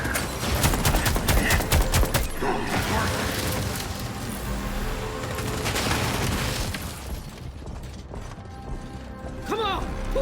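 Rapid PDC gunfire in The Expanse: Osiris Reborn video game, dense bursts of mechanical firing loud at the start, then sustained combat noise, with voices shouting over it.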